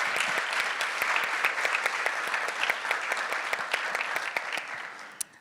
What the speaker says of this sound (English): I was hoping we could all give a round of applause to Brian Johnson for putting together this fabulous event here